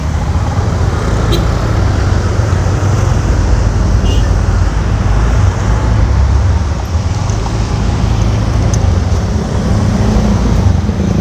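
Steady, dense roar of jammed road traffic with engines idling and rumbling close by, continuous throughout with occasional faint higher clinks.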